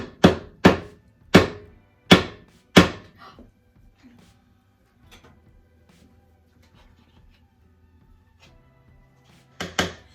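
A spoon repeatedly knocked against a bowl to free stiff fall cookie dough, giving five loud, evenly spaced thunks up close, then a quiet stretch before two more knocks.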